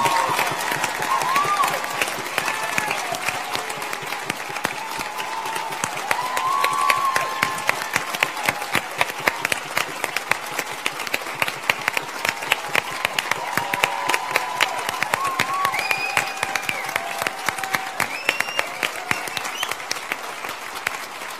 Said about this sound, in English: I'll let you bask in the applause for a bit here.